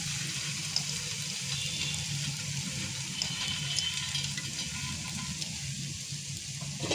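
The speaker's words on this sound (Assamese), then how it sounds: "আৰু এইখিনি জুই বহাই প্ৰায় 2 মিনিটমানৰ কাৰণে ভাজি থাকিম।" Leafy greens with potatoes and lentil bori fry in a pan, giving a steady, even hiss and sizzle that continues unbroken at a moderate level.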